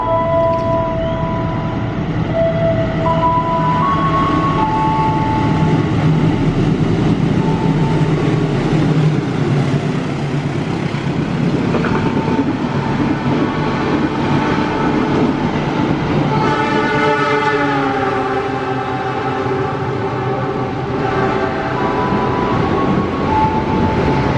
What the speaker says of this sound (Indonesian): Jalur 4 kereta api Parahyangan melintas langsung.